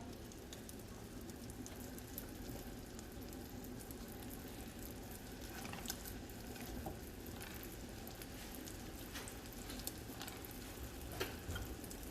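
Crab cakes fry steadily in a cast iron skillet, a constant close sizzle with soft crackling and occasional pops, no talking.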